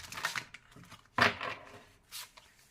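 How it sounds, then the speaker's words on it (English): Playing cards being shuffled during a tarot-style reading, giving a few brief papery riffling bursts with quiet gaps between them, close and fairly soft. "We have to shuffle a little bit more."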